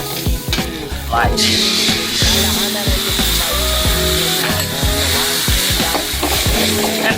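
Pad thai with vegetables stirred and fried in a hot pan at a cooking class in Chiang Mai, Thailand, giving a loud, steady sizzle with scraping utensil strokes throughout, while a person speaks briefly over it.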